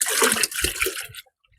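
Gram flour mixed with water is poured and stirred into a drum of jivamrut, an organic farm fertilizer, giving a close, sloshing pour that lasts just over a second before falling silent.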